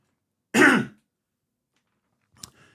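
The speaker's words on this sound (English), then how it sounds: "I'm gonna have to cough again." A single rough throat clearing, then silence and a short, quieter cough-like sound near the end.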